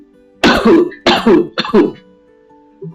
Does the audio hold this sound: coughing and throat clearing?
yes